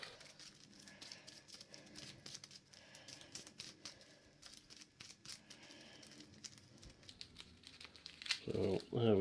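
A small deck of Arkham Horror card game cards is shuffled by hand, giving soft papery riffles and crinkly flicks that build to a louder burst of handling at the end, recorded close and quiet.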